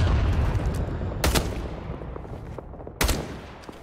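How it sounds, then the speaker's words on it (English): Gunfire in the video game Rising Storm 2, set in the Winter War, with two sharp close shots cracking over a dense, rumbling battle ambience. "What asshole is shooting me right now?"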